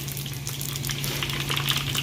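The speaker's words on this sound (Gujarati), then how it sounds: "તો તેલ ગરમ થઈ ગયું મિત્રો, આપણે વઘાર કરશું।" Spices tempering in hot oil for a Gujarati tindora and potato curry: mustard seeds, fenugreek, cumin and asafoetida hiss and crackle in a steady, close, even sizzle with a low hum underneath, and no one speaks.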